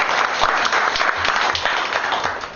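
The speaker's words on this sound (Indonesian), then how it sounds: "Tepuk tangan sekali lagi buat Tuhan" A church congregation applauding steadily and fairly loudly for a few seconds, dense clapping with no voices standing out.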